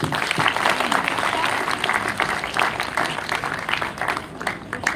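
At a hand hygiene day event, an audience claps energetically for several seconds, uneven and somewhat rhythmic, with faint voices mixed in beneath the clapping.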